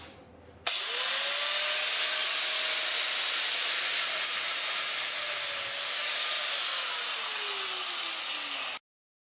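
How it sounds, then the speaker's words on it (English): An angle grinder cutting silicone hose, a loud sustained whine and hiss that starts abruptly, holds steady with a slowly falling tone, then stops sharply. "First, we're going to try it with a grinder."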